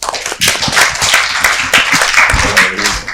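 An audience applauds at a school-kit and supplies handover event, a dense, loud, sustained wash of many hands clapping that fills the moment with little else.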